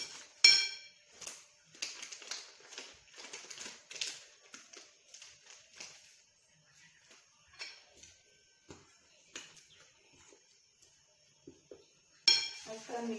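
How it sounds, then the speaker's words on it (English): Beetroot bread batter being mixed by hand in a bowl, with close, irregular clinks and scrapes of a utensil against the bowl that come in bursts and pauses, without speech. "And I'm going to mix it up."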